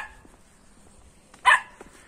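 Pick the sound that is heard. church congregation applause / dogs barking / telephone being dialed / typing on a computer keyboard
dogs barking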